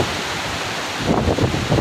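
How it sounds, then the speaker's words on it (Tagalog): Strong typhoon wind roars in a broad, rumbling rush, buffeting the microphone and swelling louder in gusts toward the end. "Ayan, malalakas na naman ang hangin."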